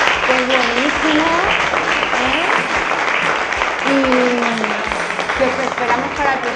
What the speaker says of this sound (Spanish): solo pido un aplauso para él